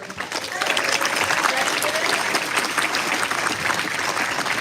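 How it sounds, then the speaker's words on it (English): Audience applause for students and a school music department at a school district show, loud, dense clapping sustained throughout, with some crowd voices mixed in. "You could give them a round of applause."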